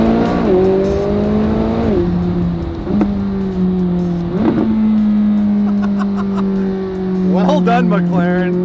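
A McLaren 600LT supercar accelerates hard, its engine note climbing and dropping through several quick gear shifts, loud and close, with a voice briefly heard over it.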